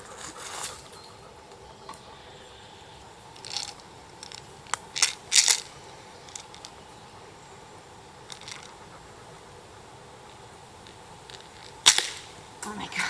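A wrist rocket slingshot shoots with a few sharp snapping cracks scattered through a quiet outdoor stretch, some close together and one louder near the end, and a voice briefly exclaims.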